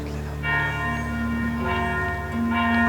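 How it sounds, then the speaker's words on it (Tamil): A Pillaiyar temple bell rings in three clear, resonant strikes spaced about a second apart, each leaving a long, humming metallic ring that overlaps the next. "பிள்ளையார் கோயில் மணியோசை ஊரவர் உள்ளம் சிலிர்க்கு உயர எழுகிறது."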